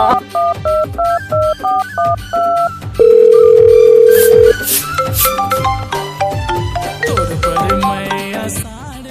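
A phone is dialed to call a shopkeeper: a quick run of short, evenly spaced keypad tones, then a long steady tone, followed by ringing beeps and other clattering phone sounds.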